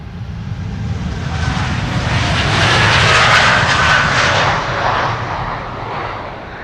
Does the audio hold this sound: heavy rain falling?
no